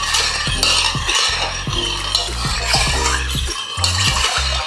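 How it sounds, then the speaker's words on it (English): Homemade eggnog stirred in a pan, a spoon knocking and scraping in quick repeated strokes with a faint simmering hiss beneath, close and fairly loud, nobody speaking. "The more I stir it, the better it gets"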